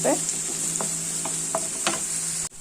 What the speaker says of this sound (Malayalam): നല്ല ഗോൾഡൻ കളറാവണം നന്നായിട്ട് വഴറ്റിയെടുക്കുക